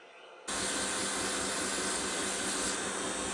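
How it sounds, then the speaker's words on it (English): After a short quiet moment, a steady abrasive hiss of sanding resin and cardboard starts abruptly and continues evenly at close range. "I'm going to start sanding there and see how that looks."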